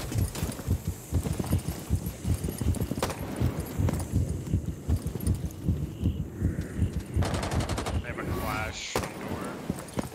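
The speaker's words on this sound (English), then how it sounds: "the Finca heartbeat sound is great for my tachycardia and crippling anxiety" The Finka heartbeat sensor in Rainbow Six Siege gives a steady run of deep, rapid thumping pulses that fills the whole stretch, mixed with bursts of in-game gunfire. Players talk over it.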